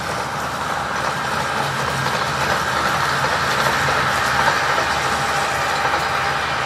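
On the Ravenglass & Eskdale Railway, a diesel locomotive passes at moderate distance, a continuous broadband rumble and engine drone holding steady with a slight swell in the middle.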